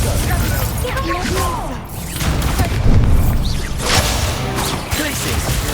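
Confringo fire spell blasts during combat in the video game Hogwarts Legacy: loud booming impacts and crackling bursts mixed with other battle effects, with a voice shouting over them.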